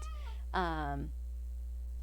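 A cat gives one clear, close meow lasting about half a second, heard alone over a low steady hum.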